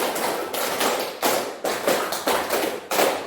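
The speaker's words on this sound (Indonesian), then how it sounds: "Tepuk tangan." Group hand clapping in a rhythmic pattern, bursts of sharp claps repeating roughly every half second, close and loud, in a classroom setting during a positive-culture teaching session.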